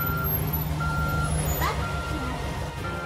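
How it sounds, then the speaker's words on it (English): Reversing beeps from a cement truck repeat at a steady pulse over a rumbling truck engine close by, with a short squeal partway through, in an animated police comedy. "No! A cement truck!"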